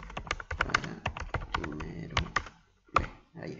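Someone types a short message on a computer keyboard, a quick run of close, crisp key clicks with brief pauses, while a voice speaks faintly in the background.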